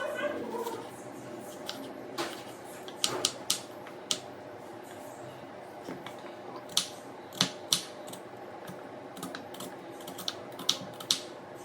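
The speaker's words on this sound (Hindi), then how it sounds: "थोड़ा सा प्याज, टमाटर, धनिया, मिर्चा ये सब काट लेते हैं" A knife chops onion, tomato, coriander and chili on a board in a home kitchen, giving irregular sharp taps spread across the stretch, some close together, over low background hum.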